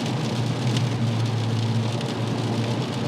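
Steady rain drumming on the body of a Volkswagen car, a dense continuous patter with a low rumble underneath, with no voices.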